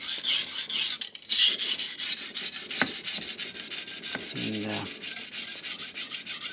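A knife blade scrapes back and forth over a King G-45 220 grit whetstone in a steady rhythm of close, gritty rasping strokes, heard alone.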